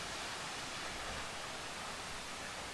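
Rushing water of Mae Sapok Waterfall in Chiang Mai, a steady, dense broadband roar that stays even and unbroken throughout, close by and loud, with no voices.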